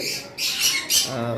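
Lovebirds at a bird farm squawk loudly in harsh, shrill bursts, with a few overlapping calls close by and a lower chirping voice toward the end.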